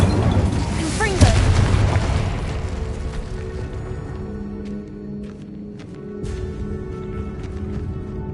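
In Hogwarts Legacy on PS5, a Confringo spell bursts in a deep, loud explosive boom that rumbles and fades into lingering debris and ambient game sounds.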